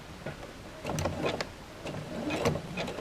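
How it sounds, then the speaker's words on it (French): A domestic sewing machine stitches in reverse while adding a pocket to pyjamas, its motor whirring in short bursts with rapid mechanical ticking of the needle; close, with no speech. "Moi, je vais essayer de faire une marche arrière, je sais que ma machine en général l'accepte."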